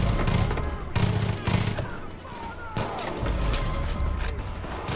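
A high-recoil gun firing in Far Cry 5, loud bursts of rapid, heavy gunshots in several volleys with brief pauses between them, close and dominant, with a voice talking over part of it.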